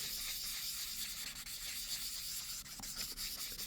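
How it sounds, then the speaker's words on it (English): Continuous rough scratching of sanding a Ring doorbell's hard plastic lens cover, close up and steady with small rhythmic variations, no talking. "we're sanding down a plastic cover"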